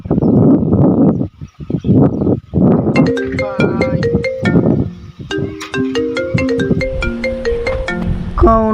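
A mobile phone rings with an incoming call, a bright melodic ringtone of repeating electronic notes that enters after some louder rustling noise and keeps playing up close and loud.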